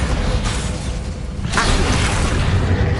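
Bombarda blasting spell explosion in Hogwarts Legacy on PS5, a loud broadband burst around the midpoint that swells into a sustained rumbling roar over dense game noise, with no talk.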